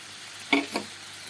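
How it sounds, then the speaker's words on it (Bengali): Fried vegetables tipped into a pan of cooked spices for a capsicum dish, a quiet sizzle with two short bursts as they land and are stirred, over a faint background hiss. "এবার আমি যে সবজিগুলো ভেজে রেখেছিলাম সেগুলো সব দিয়ে দেব।"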